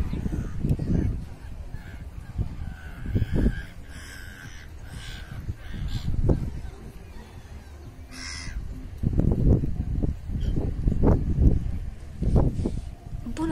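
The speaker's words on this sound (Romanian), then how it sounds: "Cormorani, pescăruși, toți liniștiți." Seabirds, cormorants and gulls, calling at a quiet Black Sea seaside resort in late September, harsh croaking caws in scattered bursts, fairly near, with faint background voices between the calls.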